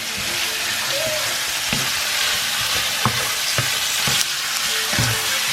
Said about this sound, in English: Cooking the chicken.